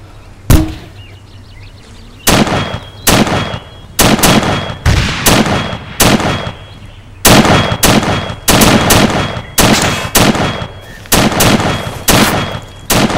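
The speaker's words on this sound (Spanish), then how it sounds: "los disparos creo que vienen del sur" Loud bursts of gunfire in the video game Arma 3 crack out in rapid, irregular volleys, some single shots and some quick strings, with short pauses between them.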